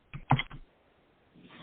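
Typing on a computer keyboard in a quiet room, a brief quick cluster of a few close key clicks followed by a pause and a faint further tap.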